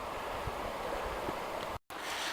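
Rushing water of Hurricane Creek on the Ozark Highlands Trail in Arkansas, a steady broadband roar of the creek in winter, continuous and fairly close with some wind buffeting, no voices.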